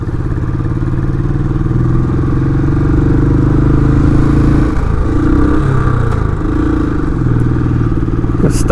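A Royal Enfield Classic 500 motorcycle labors uphill on a mountain road with a loud, close, continuous engine thump, dipping briefly midway during a gear change.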